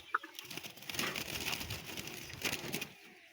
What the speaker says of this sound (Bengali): এটা হলো দেশি ঘুঘু, ঠিক আছে, মানে দেশি তিলে ঘুঘু যেটাকে বলে